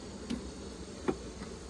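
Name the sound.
honey bees buzzing around hive frames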